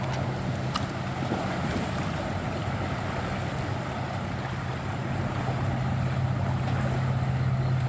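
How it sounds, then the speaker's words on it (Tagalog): Large waves churned up by a passing ferry wash and slosh continuously over the water, with broad rushing noise and wind buffeting, steady and fairly loud throughout without talk. "Malaki kasi ang alon kapag dumaan ang ferry."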